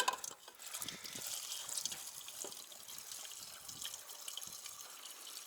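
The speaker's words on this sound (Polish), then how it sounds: "możemy wlewać kolejny raz gorącą wodę" Hot water being poured into the cold engine of a tractor, a faint, steady trickle and splash of liquid running throughout with no voices.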